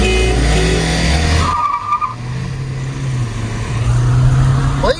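A Hyundai Verna 1.6 and a Volkswagen Polo 1.5 launch in a drag race with loud, continuous engine roar and tire squeal, the engine note dropping and then rising again as the cars pull away.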